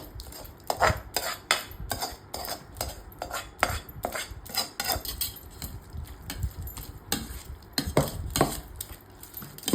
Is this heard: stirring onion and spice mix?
yes